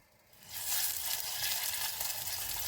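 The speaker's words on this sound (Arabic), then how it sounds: "حطيت شويه زيت، معلقه ثوم مفروم" Minced garlic hits hot oil in a pan and sizzles loudly. A hiss fades in and then holds as a steady, crackling fry for a couple of seconds with no talking.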